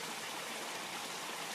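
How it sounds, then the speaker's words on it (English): Water runs steadily in the background, a faint, even, broadband rushing like a small stream or trickling flow, with no talk over it. "She really loved hearing the water in the background."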